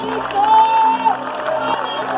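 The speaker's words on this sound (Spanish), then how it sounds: "Alguien tiene que aplaudir al Rey de Reyes." A congregation at an evangelical healing and salvation crusade applauds and cheers, a loose crowd roar with scattered whoops and a brief whistling tone, voices rising in the mix around it.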